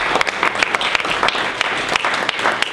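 A party meeting audience applauds steadily at close range during an interim leader's report, with dense, continuous clapping that has a few sharper individual claps poking through.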